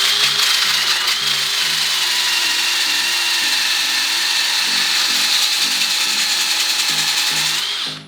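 A wooden bowl spinning on a lathe is sanded with 60-grit paper, giving a steady, loud abrasive hiss over the motor's hum with a faint rhythmic pulsing, then stopping abruptly at the end.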